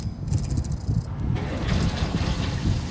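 Water pouring from a filter into the empty water tank of a van, a steady rushing, gushing flow that holds on throughout, fairly close and unbroken.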